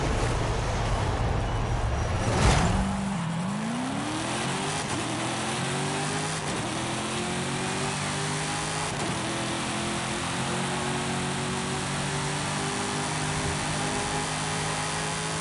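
A Mazda race car engine in a racing video game drones steadily, its pitch climbing and settling as it revs through the gears, loud and continuous with no talking.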